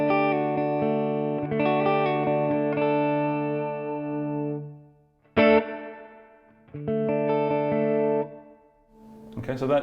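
Clean electric guitar played through a Line 6 Catalyst 200 amp with the hot spring reverb: sustained strummed chords ring out and decay with a lingering tail, then a short pick attack and another strummed chord, close and clear, with no talking.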